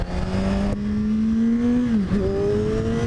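A 2014 Kawasaki Z1000 motorcycle engine pulls hard under acceleration, a loud, steady rising drone that dips briefly as the gear shifts, then climbs again.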